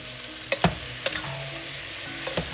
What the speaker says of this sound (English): Again, saute it. We're kind of like browning the meat here in a sense.